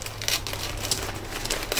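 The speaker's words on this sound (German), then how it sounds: "Ich versuche mal die Tüte hier irgendwie aufzuschneiden, ohne irgendwas mit kaputt zu machen." A plastic mail-order bag crinkles and rustles up close as it is cut open by hand, with soft irregular crackles over a couple of seconds and no talking.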